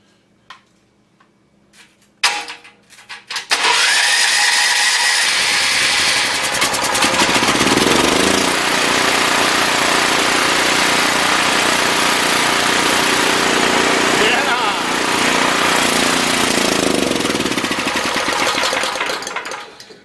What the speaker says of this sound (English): A Junkyard Generator. All we got to do is clean up the mess now, but she runs.